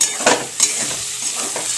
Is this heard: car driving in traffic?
no